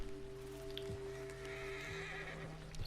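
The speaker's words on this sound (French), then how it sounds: "vous devez calmer les chevaux agités pour pouvoir l'approcher" Agitated horse in Red Dead Redemption 2 neighing and whinnying over a steady game ambience, with faint hoof clops in the background.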